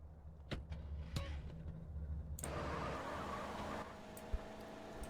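In GTA San Andreas, a car door clicks and shuts with a couple of sharp knocks, then the car engine starts and runs with a steady mid-pitched hum, ending in a single thump.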